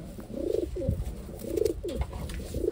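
A pigeon coos in close, low, throaty phrases, repeating about three times in a rhythmic pattern, clear and alone.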